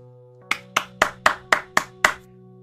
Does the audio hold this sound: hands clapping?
yes